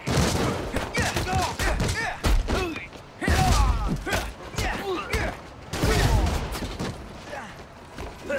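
Bursts of rapid gunfire and sharp impacts in Marvel's Spider-Man: Miles Morales crackle in clusters, loud and close, with game-like mechanical clatter between volleys.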